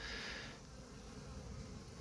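A steady, close buzzing hum of honey bees flying into a hive in winter sun, many insects droning together, no voices.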